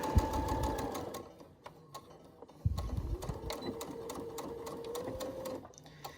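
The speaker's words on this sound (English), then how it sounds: "I don't snip it I just keep sewing on to my next piece" A home sewing machine stitches fabric face mask pieces one after another without stopping, a close continuous whirring with slight changes in speed throughout.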